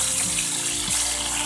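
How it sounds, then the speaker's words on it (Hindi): Water pours steadily into a wok of cut ridge gourds in a kitchen, a continuous close gush with no talking. "हम इसमें थोड़ा पानी ऐड करेंगे"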